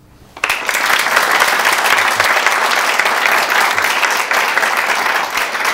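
A university audience breaks into loud, sustained applause for a guest, a monk, rising suddenly and continuing steadily with a crowd murmur underneath.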